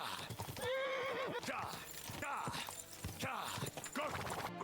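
A horse in the video game Kingdom Come Deliverance II whinnies loudly and close, while hooves clop in a steady rhythm underneath. A game soundtrack or ambient noise runs throughout.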